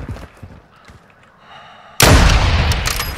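Video game shooter gunfire erupts suddenly after quiet, low clicks and a faint hum, then a dense, loud burst of blasts continues to the end.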